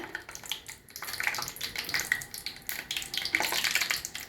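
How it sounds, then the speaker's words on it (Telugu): Cashews sizzling in hot ghee, a steady bright crackle and hiss of frying with faint stirring, close and fairly quiet, no voices. "జీడిపప్పుని ఇట్లా వేయించుకోవాలి నెయ్యిలో"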